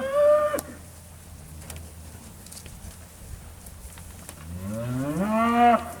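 Cattle at a Georgia cattle auction moo loudly and close, one long low call at the start and another rising bellow near the end, with faint shuffling and barn noise between.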